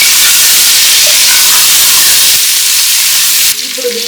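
Green chillies, brinjal, drumstick and carrot pieces sizzle loudly in a hot pan for sambar, a bright continuous hiss and crackle with stirring, cutting off abruptly near the end to quieter background.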